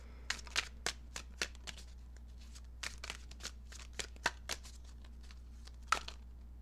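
Tarot cards are shuffled and drawn by hand in a quiet room, giving a run of quick, crisp riffling snaps and soft slides spaced irregularly over several seconds, with no talking.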